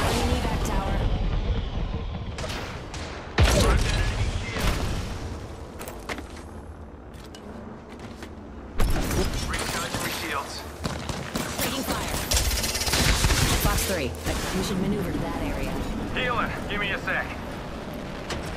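Fuse's knuckle cluster grenades burst in a rapid, crackling barrage during an Apex Legends match, loud and layered with gunfire and game effects while a voice talks over the action.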